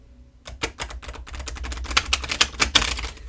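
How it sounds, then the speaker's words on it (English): A deck of tarot cards shuffled by hand, a quick riffle of crisp flicking snaps that builds in density and loudness over a few seconds, close up with no talk. "Give these a good shuffle."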